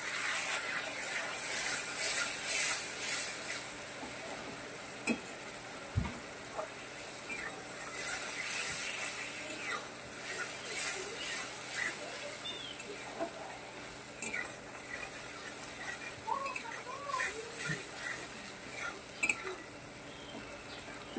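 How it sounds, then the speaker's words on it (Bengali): A spice paste of green chili and tomato is stirred and fried in a pan for a Bengali pabda fish mustard dish, giving steady close scraping and rubbing with a faint sizzle and no talk. "এটাও ভালোভাবে নেড়ে চেড়ে কষে নেব।"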